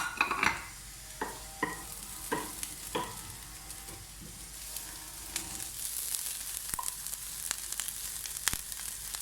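Minced meat mixed with green coriander and green chillies for chandan kabab, stirred and pressed by hand or spoon in a bowl, giving soft squelches and intermittent clicks and taps against the vessel; close, quiet, no speech.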